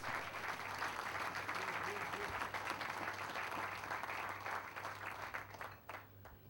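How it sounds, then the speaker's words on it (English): Audience applause for a gas conversion project team at a public ceremony, a dense steady wash of many hands clapping that holds for several seconds and thins slightly near the end, with a low hum underneath. "Let's give them a big round of applause."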